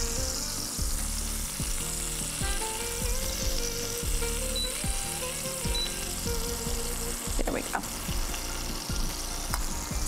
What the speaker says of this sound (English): That's gonna give you this beautiful sear on your fish